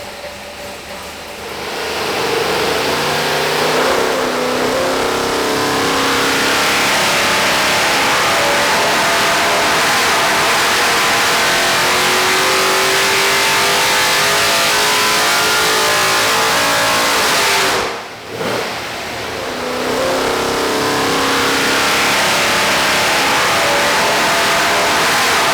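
A 582 big block engine on a dyno, fed 93 octane pump gas through a stack injection intake with eight 6-inch velocity stacks, revs up into a loud, sustained roar, briefly drops off, then climbs again.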